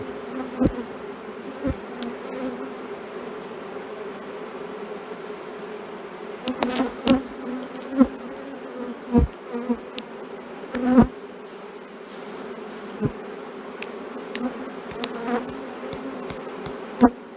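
Honeybees buzz at a hive while brood frames are handled, a steady close drone with scattered clicks and knocks from the frames, and no talk.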